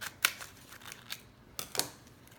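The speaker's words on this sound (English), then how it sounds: "And I get scissors and I just cut it to open it up." Scissors snip open a dried chili pepper for red chili sauce for pork tamales, giving a few crisp, dry cuts spaced irregularly, fairly close and alone against a quiet background.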